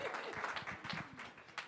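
An audience at a school weekly meeting claps and cheers, a brief, fairly faint burst of mixed applause and crowd noise.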